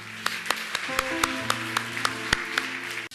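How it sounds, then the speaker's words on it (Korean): A steady wash of church congregation clapping with scattered louder hand claps and held organ-like tones underneath, cutting off abruptly at the end. "우리 한번 하나님께 감사의 박수를 드리겠습니다."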